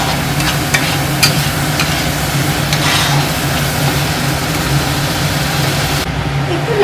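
Tomatoes frying with spices in a pan while a Katla fish jhol is being cooked, giving a steady, fairly loud sizzle with occasional stirring scrapes throughout.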